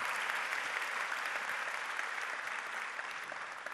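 Concert audience at a sarod performance applauding, a sustained, even roar of many hands clapping, fairly distant and steady with no speech.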